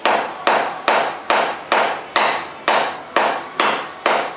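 Steady hammer blows ring out on a metal engine part of a 2004 CG Titan motorcycle during an overhaul, about ten evenly spaced metallic strikes, loud and close, each with a short bright ring.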